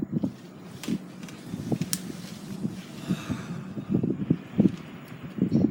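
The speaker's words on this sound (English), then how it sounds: "the wind has just gotten worse and worse" Strong, worsening wind outdoors buffeting the microphone in uneven gusts, with low rumbling bursts and rustling that swell and fade throughout.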